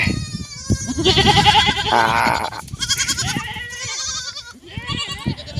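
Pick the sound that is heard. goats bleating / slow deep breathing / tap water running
goats bleating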